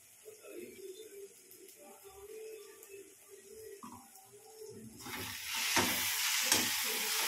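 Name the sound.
stirring a vegetable dish cooking in a pan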